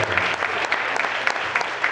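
An audience claps steadily through a short burst of applause at a talk by a young African-American educator, dense and sustained with no gaps.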